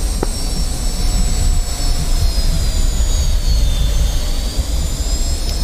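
A Mirage jet fighter roars steadily in DCS World, a loud, dense engine rumble with a high whining tone running through it for several seconds, unbroken and close.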